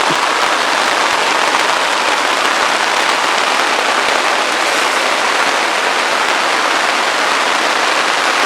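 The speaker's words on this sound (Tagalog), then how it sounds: "Grabe, napakalakas na ng ulan." Heavy rain at a foggy mountain campsite pours down in a dense, constant roar of drops hitting a surface, loud and unbroken throughout.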